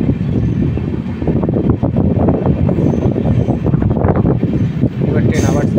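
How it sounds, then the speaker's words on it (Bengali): The Howrah Balurghat Express picking up speed on the line from Malda Town, a steady rumbling roll with rhythmic rail clatter and some wind, heard from inside the train. "এবার ট্রেন আবার স্পিড হচ্ছে।"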